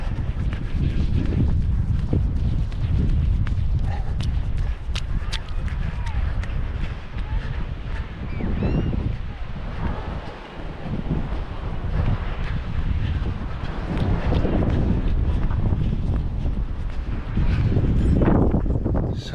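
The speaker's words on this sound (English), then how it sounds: "it's darn windy. I've got the wind behind me now" Strong coastal wind buffets the microphone in loud, continuous gusts during a beach run in Tenby, Wales, with footfalls and a runner's voice faintly mixed in.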